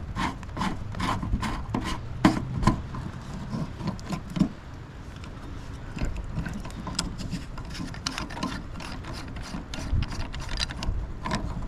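An old Ubiquiti G3 bullet security camera is pried and taken apart by hand, giving close clicks, plastic creaks, scrapes and rubbing in an irregular stream with no talk.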